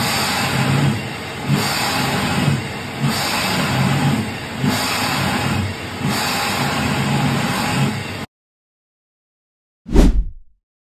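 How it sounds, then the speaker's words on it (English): A Daikin McQuay centrifugal chiller surging after a rebuild, a loud continuous roar that swells and eases in a slow repeating rhythm, then cuts off before one short low thump. "So this is what chiller surge sounds like."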